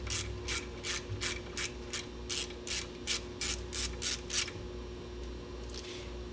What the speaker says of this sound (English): 3/16 Allen wrench, hex head to remove that pipe plug out of the elbow